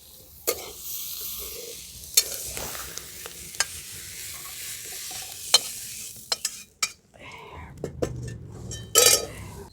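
Paneer frying in a pan with a little turmeric, a soft continuous sizzle broken by sharp clinks and scrapes of a spoon stirring against the metal, with quiet speech now and then.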